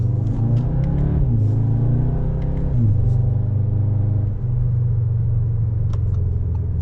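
A 2021 Audi S3 sedan engine accelerates hard from standstill, a loud close rumbling growl that climbs in pitch, drops briefly at gear changes, and then holds a steady high drone.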